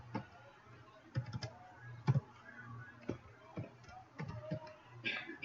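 Irregular plastic clicks of buttons pressed on a calculator keypad, a quick scatter of close, light taps with short pauses between, over faint room hiss.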